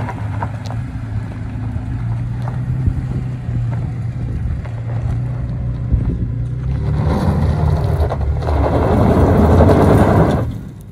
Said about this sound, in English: I'm just gonna lock the rear differential and crawl up this hill.